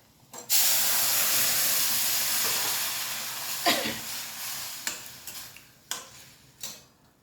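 Dal tipped into hot oil seasoned with asafoetida, giving a loud burst of sizzling that settles into a steady hiss and then fades, broken by a few sharp crackles and pops toward the end.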